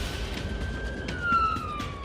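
An ambulance on blue lights heads to a high-speed road collision, its siren a thin, steady wailing tone that slowly shifts in pitch. The siren is faint and distant over a low rumble of road noise, with no talking.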